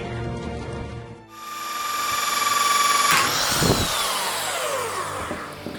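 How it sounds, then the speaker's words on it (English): A power drill bores into ebony wood with a rising whine that holds steady, then the pitch shifts and sags as the bit binds, close and loud throughout. "I have just snapped my drill bit inside the wood."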